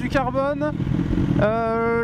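A motorcycle fitted with a modified SC Project exhaust revs up twice, each blip rising sharply in pitch before falling back, loud and close against a rumbling idle.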